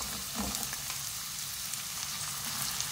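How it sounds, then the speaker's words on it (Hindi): Three medium potatoes cut into small squares, frying with onions in a pan, giving a dense, steady crackling sizzle close up, with a brief stirring scrape near the start and no voice. "आलू डालने के बाद मैंने इसको मिक्स कर दिया है"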